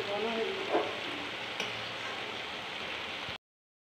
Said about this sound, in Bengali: আর নাড়তে হবে অনবরত, মানে ডালটা লেগে যেতে পারে।